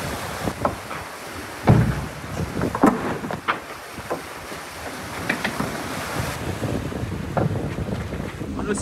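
Strong wind roars and buffets across the microphone aboard an Ultim racing sailboat crossing the cold southern Indian Ocean, with rushing waves and hull noise beneath. The gusty rumble is loud and continuous, with no talking.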